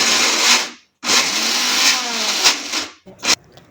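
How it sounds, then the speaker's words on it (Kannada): A kitchen mixer grinder runs loud and close as it grinds garlic, green chillies, curry leaves and ginger into masala for akki vade. The motor whirs in bursts, stops sharply near one second, restarts, then cuts out in short pulses at the end. "ಆಮೇಲೆ ಇದನ್ನು ಹಾಕಿ ಮಿಕ್ಸಿ ಮಾಡ್ಕೊಳ್ಳಿ"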